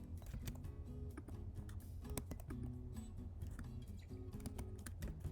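Rapid computer mouse clicks and light keyboard taps at a desk while drafting a figure skating dress sewing pattern on screen, close, quiet and irregular, with no talking.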